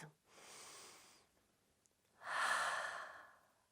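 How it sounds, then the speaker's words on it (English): A person takes deep breaths, two long audible inhalations or exhalations with a pause between them, the second louder and fuller, close and alone with no talking. "take 3 deep breaths."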